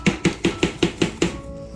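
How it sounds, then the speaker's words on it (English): Garlic pepper seasoning is shaken over small steak pieces in seven quick, evenly spaced taps, each a soft, close rattle, before the sound stops. "Now I am going to sprinkle some of the garlic pepper."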